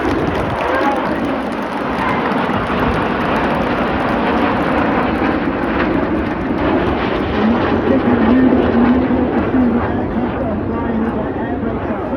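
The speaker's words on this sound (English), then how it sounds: "But watch for the colour change as red 1 flies the team down the line." Red Arrows jets flying past in display formation at an Armed Forces Day show over a loughshore park make a broad, distant roar that swells and rumbles steadily under a commentator's voice.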